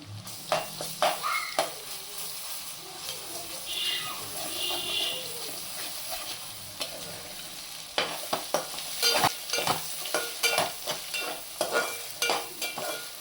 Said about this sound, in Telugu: మనం ముందుగానే ఉడకపెట్టుకున్న రొయ్యలు అయితే వేసుకొని బాగా తిప్పుకోవాలి. అల్లం వెల్లుల్లి పేస్ట్ కూడా వేసుకొని బాగా తిప్పుకోవాలి